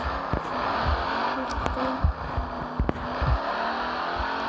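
A car engine rumbles and revs nearby in short uneven bursts, with several sharp clicks and knocks breaking through the fairly loud running noise.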